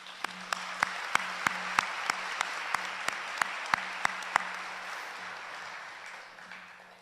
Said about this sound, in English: Let's take a moment and give a round of applause for them.